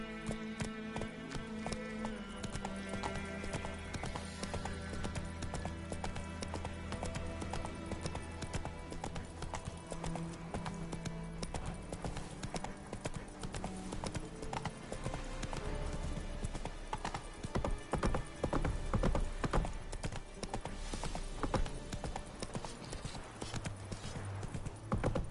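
Roach the horse gallops in The Witcher 3 on PS5, steady clip-clop hoofbeats running continuously under a dense, loud bed of game music.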